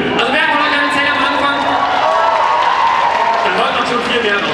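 Audience at a German anime convention panel responding with applause and cheering, a dense crowd roar with overlapping voices sustained throughout at high level.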